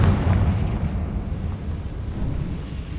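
A Confringo fire spell explodes in Hogwarts Legacy, a loud, deep rumbling boom that hits at once and then rolls on as a sustained low roar for several seconds, with no talking.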